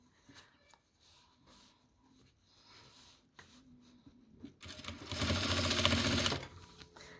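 A sewing machine stitches a toiletry bag, running in one loud, steady burst of about two seconds near the end after quieter handling noises.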